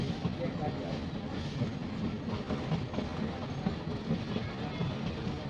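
A meter gauge passenger train rumbles along with a low, steady drone and faint rhythmic clatter of wheels on track, heard from nearby for several seconds.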